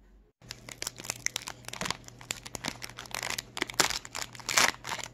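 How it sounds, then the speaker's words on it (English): A Fortnite trading card pack wrapper being crinkled and torn open up close, a dense run of loud crackling and crunching plastic noises following a brief quiet start. "Oh, I love this sound and the feeling of this pack."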